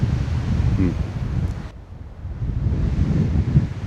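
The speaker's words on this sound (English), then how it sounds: "Heaps of potential, but man, the wind, no one likes the wind." Strong wind roars across an open hillside during a hunt, buffeting the microphone with heavy low rumbling gusts that briefly ease before surging back, loud and continuous throughout.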